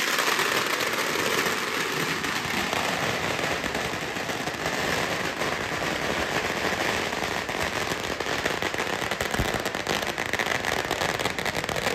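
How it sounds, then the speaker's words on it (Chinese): Firecrackers set off by residents cheering a passing election campaign motorcade in a Taiwanese mountain township, a dense, steady crackle of rapid pops filling the whole stretch, loud and close with no voices. "嘛有居民更加是放炮仔来表示支持"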